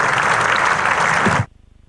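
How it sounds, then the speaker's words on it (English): Crowd at a county championship cricket ground, Sussex against Worcestershire, applauding a batsman reaching his fifty. A steady wash of clapping for about a second and a half, then it cuts off abruptly. "Nice applause round the ground."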